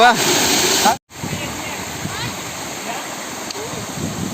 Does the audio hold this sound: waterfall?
yes